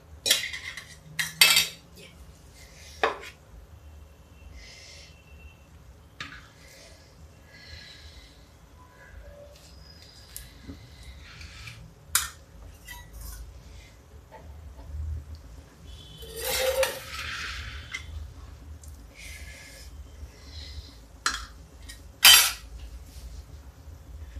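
A spoon clinks and scrapes as potato stuffing is spread over an urad and rice dosa in a pan, with several sharp metallic taps and soft smearing strokes at close range, over a low steady stove hum.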